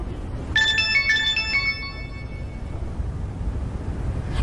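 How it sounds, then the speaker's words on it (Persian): A mobile phone plays a bright melodic ringtone, a quick run of clear electronic notes lasting about a second, then stops, leaving only low background rumble. "تو رو خدا گوشی و جواب بده"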